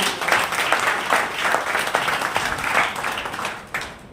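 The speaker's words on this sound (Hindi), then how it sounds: "एक बार तालियां हो जाएं सर के लिए" An audience applauds for a speaker at a leader training session in Satna, Madhya Pradesh, a dense, sustained wash of many hands clapping for about four seconds, fairly loud and even.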